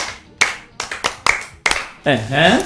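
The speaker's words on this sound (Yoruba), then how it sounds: "ẹ pàtẹ́wọ́ fún un" An audience gives a speaker a handful of loud, separate hand claps in an uneven rhythm, close by, before a voice begins speaking.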